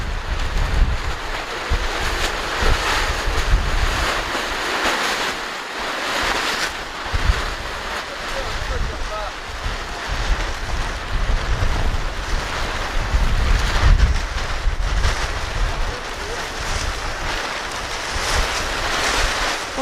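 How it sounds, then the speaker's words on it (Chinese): Strong force-6 wind gusts outdoors around a cattle shed covered with plastic sheeting. It makes a loud, continuous roaring rush that swells and buffets the microphone, with no voices. "这大风，这会儿了能达到6级大风。"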